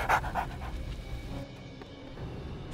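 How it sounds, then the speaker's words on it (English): A wolf in the Warcraft III Reforged video game gives panting, whimpering dog-like cries, a few short bursts near the start and then fading into a busy game soundscape with low rumble and effects. "you hear like the whimper of the wolf"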